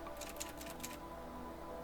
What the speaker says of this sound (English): Can I do my typewriter typing?